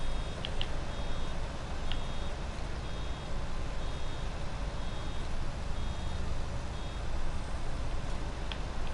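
Farming machine warning beeps in Farming Simulator 19, sparse short high beeps spaced a second or so apart over a constant loud engine drone, no talking.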